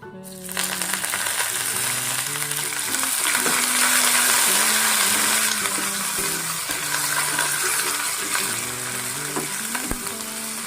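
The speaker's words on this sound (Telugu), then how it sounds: "ఎండిన మిరపకాయలు ఆవాలు జీలకర్ర వేసుకొని ఇవి కొంచెం ఆవాలు చిటపట అనే టైంకి కొద్దిగా కరివేపాకు కూడా వేసుకోండి" Dry red chillies, mustard seeds and cumin fry in hot oil, giving a close, steady sizzle scattered with popping crackles and a few metallic clinks, with no talking.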